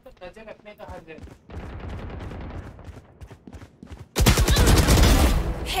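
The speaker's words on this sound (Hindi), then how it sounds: "हेडशॉट ले ले ले राजू" Gunfire from a video game during a headshot, starting as scattered shots under a streamer's excited talk and then erupting into a loud, dense burst of rapid fire for the final second and a half.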